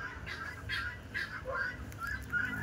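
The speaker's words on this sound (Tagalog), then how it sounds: "Meron dito akong 16 heads na Guinea fowl." A flock of guinea fowl calling in a backyard farm, repeated faint, harsh honking cries at a distance over low background noise.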